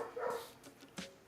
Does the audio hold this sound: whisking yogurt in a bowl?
no